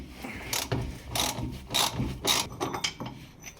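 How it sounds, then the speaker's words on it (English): Ratchet with an 18 mm socket clicking in a series of sharp, close bursts as it loosens a coilover nut on a Ford Figo, loud and alone with no talking. "you have an 18 socket, and it's just about cracking loose this nut"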